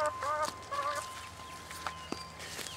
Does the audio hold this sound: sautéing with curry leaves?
no